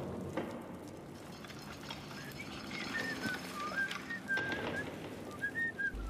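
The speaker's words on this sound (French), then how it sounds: "Mais il est sérieux de siffler comme ça?" A character in the video game Deadlight whistles a cheerful, wavering tune at moderate volume over steady ambient rain and background noise.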